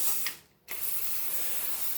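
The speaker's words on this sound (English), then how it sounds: "Let's pump up the pressure a little more, shall we?" A hand-pumped foam cannon sprayer is pressurized beside a sink, giving a continuous loud hissing, rushing sound with a brief drop in the middle and a few mechanical clicks.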